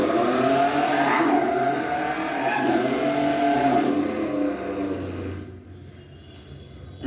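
A person imitates a Dodge Challenger engine with the mouth, a loud, close, rough revving drone that swells and wavers for several seconds, then drops away near the end.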